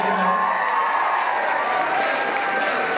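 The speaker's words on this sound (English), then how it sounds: "Give her a big round of applause." An audience at a student enterprise finals event applauds steadily, a dense wash of clapping from a crowd that holds at an even level throughout, with a faint voice at the very start.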